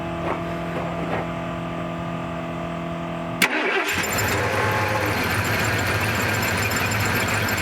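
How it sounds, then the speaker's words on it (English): A 1979 Ford Bronco engine cranks with a steady electric whine, catches with a thump, then runs rough and loud nearby as if firing on only some cylinders, with no talk. "The thing sounds like it's running on half the cylinders, but at least it's running."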